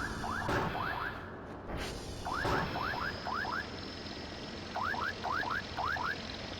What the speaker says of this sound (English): God damn it, the drone's here.